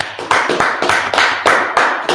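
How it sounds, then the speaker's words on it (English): Congregation clapping hands in steady unison during a religious class, a sharp, loud, rhythmic beat of about three claps per second that carries on without any voices over it. "Let's clap it up for the Lord."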